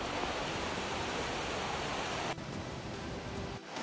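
River water rushing near a waterfall in Bajos del Toro, Costa Rica, a loud continuous broadband roar that drops abruptly in level partway through and continues more softly.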